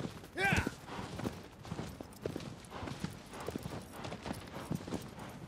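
A horse's hooves clip-clop at a steady walking pace in Shadow of the Colossus on PS4 Pro, quiet and continuous, with a brief louder sound near the start.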